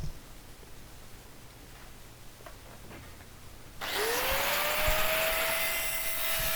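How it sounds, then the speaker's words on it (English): An angle grinder sharpening the blades of a mulcher chipper shredder, held at a steep angle. After a few seconds of quiet it starts up loud and close, its whine rising as the motor spins up, then settling into a steady harsh grind. "I'm grinding with the blade on quite a heavy angle."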